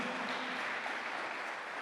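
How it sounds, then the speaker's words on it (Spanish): A church congregation applauds in a dense, steady wash of clapping that carries on evenly without pause. "Alguien puede aplaudir al Dios de gloria, al Señor, al Dios Todopoderoso."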